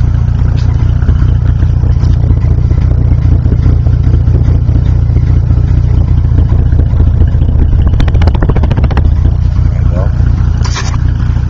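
A 1955 Chevy six-cylinder engine with dual carburetors and dual exhaust idles steadily throughout, a constant low rumble close by with some clattering and a few sharper metallic ticks near the end; talk is faintly present over it.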